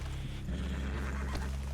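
A horse neighs in the Western video game Red Dead Redemption 2, a close whinny over a steady low rumble of game ambience lasting under two seconds.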